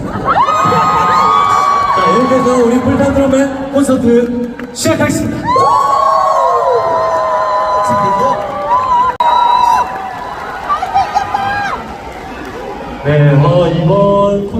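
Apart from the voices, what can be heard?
concert audience cheering and shouting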